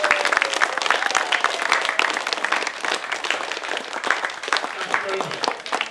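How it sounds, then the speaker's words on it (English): Sustained applause from a crowd of camp counselors and students at a youth football camp, dense steady clapping lasting throughout, moderately loud with some voices mixed in. "I want to give all the organizers and the coaches a very, very big round of applause."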